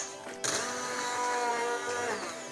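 A blender whirs loudly and continuously after switching on, blending a creamy zucchini and chicken soup, a high mechanical drone holding steady close by.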